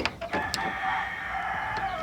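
Hens clucking inside a backyard hen coop, a short burst of calls near the start followed by steady, close-up fowl murmuring throughout.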